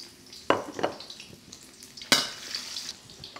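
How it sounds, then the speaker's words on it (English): Whole garlic cloves and ginger sizzle in hot chili oil in a frying pan, with soft frying crackle and a few sharp stirring clinks and bursts against the pan. "I'm going to add my garlic and my ginger. Again, they're whole because they're there to flavor this oil."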